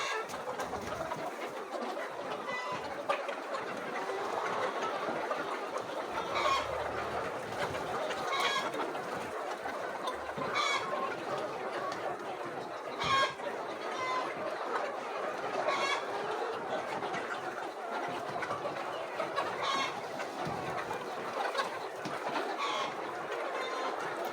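A dense flock of layer hens on a poultry farm clucks continuously, many overlapping birds chattering at close range with a few louder calls and a faint crow now and then, steady throughout with no talking.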